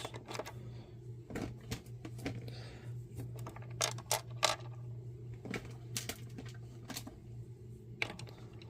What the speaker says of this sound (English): And get our screws in place.